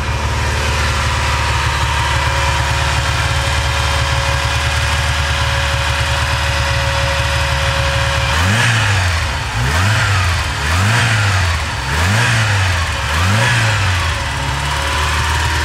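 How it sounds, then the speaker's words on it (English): A small 3-liter V8 engine idles with a steady low rumble, then revs up sharply five times in a regular rhythm, each rise falling back to idle. Close and loud. "what you're about to see is that little 3-liter V8"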